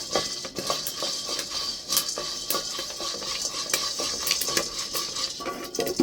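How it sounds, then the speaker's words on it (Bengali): Continuous metallic clinks and scrapes of a utensil stirring corn kernels popping in a pan, with scattered sharp pops and taps throughout. "এইভাবে নাড়া দিতে হবে আস্তে আস্তে করে"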